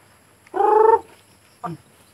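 A young bird calls up close: one sustained, wavering peep, a pause, then a short falling chirp, with quiet all around.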